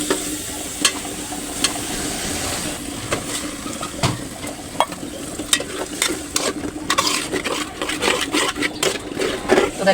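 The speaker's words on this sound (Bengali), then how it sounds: "আমার মশলা কষানো হয়ে গেছে।" Spices sizzle steadily in a pan while sharp scraping clicks from stirring come at irregular intervals.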